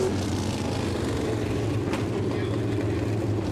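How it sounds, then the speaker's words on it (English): A field of 360 sprint race cars at Merrittville, their engines producing a dense, continuous roar that stays loud and even throughout, mixed into a wide, hazy track wash. "Just to watch and listen to these cars, Greg."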